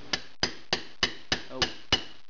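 A hammer strikes a bushing being driven into a 350 transmission, seven sharp metallic taps at an even pace of roughly three per second, close and clear, with no talk over them.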